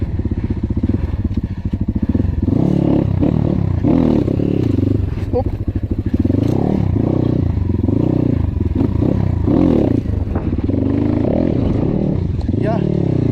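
A KAYA 612 motorcycle engine runs steadily with some clatter while being ridden, as a person talks over it throughout.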